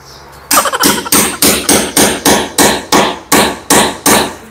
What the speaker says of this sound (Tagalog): So yun, matigas ang semento guys. Ito maso ko